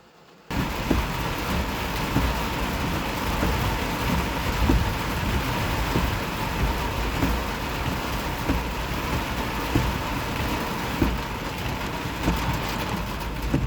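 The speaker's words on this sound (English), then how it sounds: "It's kind of hard to make videos in the rain." Steady rain pours down at night during a New Mexico thunderstorm on a bear-hunting trip, a dense, even hiss with low rumbling underneath that holds at one level throughout, and no voices are heard.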